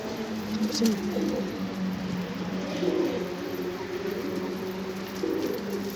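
Soft pigeon cooing repeats low and steady against a faint outdoor background hiss, with no other clear sounds standing out.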